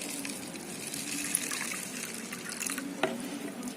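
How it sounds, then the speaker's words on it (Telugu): Water is poured into a small fertilizer mixture made for a jasmine plant, giving a soft, continuous trickle and splash nearby, fairly quiet, with no talking. "వాటర్ పోసుకుందామండి"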